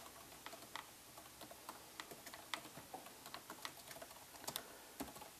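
Someone types on a computer keyboard while entering sales figures into an Excel table, a quiet, uneven patter of close key clicks with short pauses between bursts.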